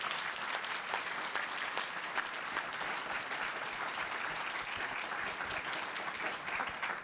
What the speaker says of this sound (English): a round of applause for our great panelists